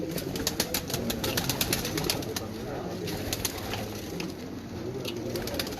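A pure Neel Dumba pigeon coos in a low, steady rolling murmur, other birds cooing close by and light wing and cage noises ticking over the top.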